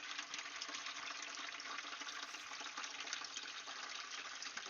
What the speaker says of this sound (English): Gonna fill up this little thing, some whatever water.